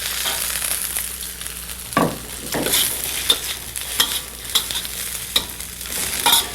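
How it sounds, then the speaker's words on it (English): Green vegetables wok fried with minced ginger, a steady sizzle broken by repeated scraping stirs of the spatula against the wok, close and clear with no talking. "I'm going to wok fry my green vegetables now until they go nice and soft."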